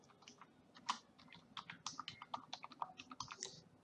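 Someone types a name on a computer keyboard, a quick irregular run of light key clicks up close, steady for several seconds with no talking.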